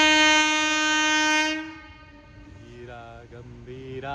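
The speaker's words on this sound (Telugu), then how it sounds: "చూడండి, వెనకాల ట్రైన్ వస్తుంది." A train close by on the railway tracks blows a long, loud horn, then rumbles steadily as it passes, with another horn-like tone swelling near the end.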